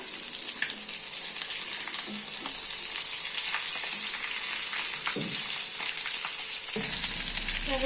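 Cutlets fry in hot oil with a steady, loud, even sizzle that runs throughout, broken by a few soft clinks and a low thump near the end.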